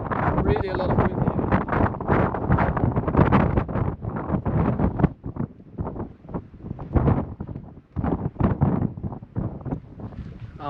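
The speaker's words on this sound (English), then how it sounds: "really a lot of wind here" Strong gusting wind on Vitosha mountain roars steadily into the microphone, loud and close, with brief lulls as the gusts ease.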